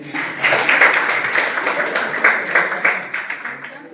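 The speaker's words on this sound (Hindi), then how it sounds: "ताली बजाइए।" An audience in a law college lecture hall claps steadily for several seconds, a dense even patter of many hands at moderate loudness.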